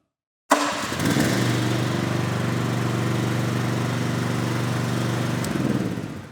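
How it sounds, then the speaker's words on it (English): Monitor 1380 spider lift with a Honda petrol engine starts abruptly and settles into a steady, loud, close running drone that holds evenly without a break. "We may need to give it a little bit of choke using the red button, and then we start it pressing the green start button."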